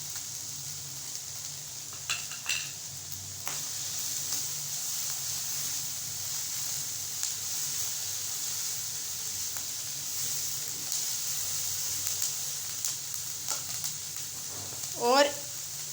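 Chopped onion and capsicum frying in a pan, a continuous close sizzling hiss with occasional clicks of utensils and a brief tonal squeak near the end.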